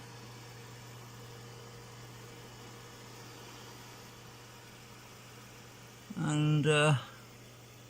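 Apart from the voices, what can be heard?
computer fan cooling hard drives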